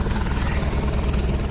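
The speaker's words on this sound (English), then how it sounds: "the helicopter hovering 50 feet above ground" A rescue helicopter hovering about 50 feet above the ground near a paraglider accident scene in Yolo County, with a steady, loud rotor drone filling the whole stretch and no talk.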